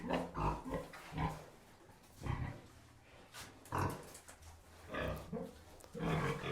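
Three pigs in one cage grunt in short bursts, several snorting calls spaced a second or so apart, close by and fairly loud with a bit of background noise.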